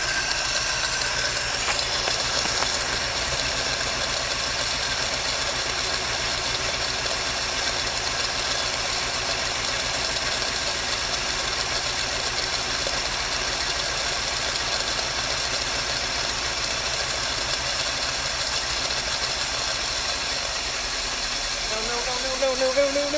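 A 1954 Buick engine idles steadily with a constant low rumble and a strong hissing layer, close and uninterrupted throughout.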